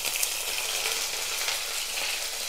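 Cinnamon, star anise, kalpasi and curry leaves crackle and sizzle in hot oil for tempering, a steady, close frying hiss with no voices.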